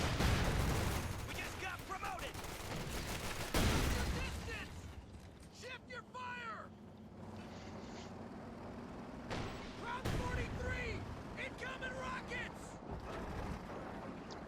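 Combat in Company of Heroes 2 during a 1v1 match with a capture point being overrun: several loud volleys of gunfire and explosive bursts, with sharp cracks spread across the stretch amid mechanical clanks and creaks, under a commentator's talk.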